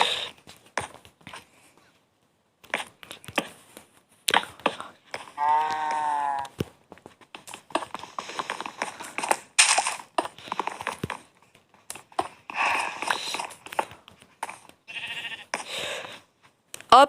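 Several Minecraft sheep bleats rise out of intermittent clattering and footstep-like taps, some close and clear, others fainter, with short quiet gaps between.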